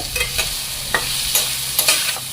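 Green peas sautéed in masala and oil, a close, bright sizzle broken by several sharp scraping stirs of a spoon against the pan.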